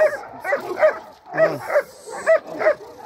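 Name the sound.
dog barking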